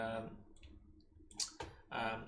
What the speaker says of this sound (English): So I'm just clicking and dragging it.